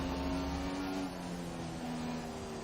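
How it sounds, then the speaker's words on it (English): Formula 1 car engine straining in the racing game F1 2017 at the Austrian Grand Prix, a steady, droning high-revving hum with a slight dip partway through. "I can hear strange engine noises."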